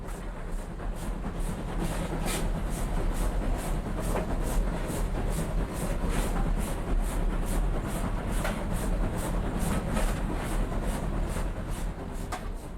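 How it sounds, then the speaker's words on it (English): A steady, loud rumble of a Standard Class 5 steam train climbing a grade on rails, with regular rhythmic clicking and chuffing beats throughout and no voices. "The train is climbing now"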